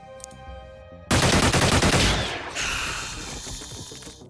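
Gunfire in the turn-based strategy game Xenonauts erupts suddenly after a quiet tonal stretch, a loud rapid burst of several shots that trails into a fading crackle with a second, softer wave of impacts.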